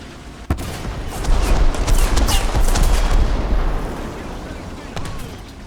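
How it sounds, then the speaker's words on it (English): Tank battle in War Thunder, with a sharp shot followed by a dense rumbling barrage of cannon and gunfire, and one more distinct shot near the end. "I didn't see where those shots came from"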